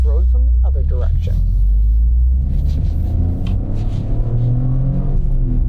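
A 2026 Toyota GR Corolla hatchback with a manual gearbox makes a U-turn, its steady low engine rumble and road drone continuous and close, with a brief voice near the start.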